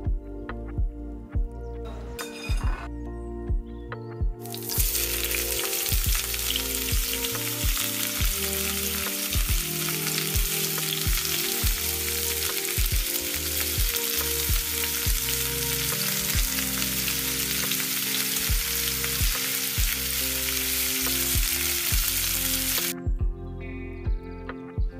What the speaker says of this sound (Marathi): आणि त्यानंतर सगळ्या पिठाची अशा प्रकारे मी शेव फ्राय करून घेतली.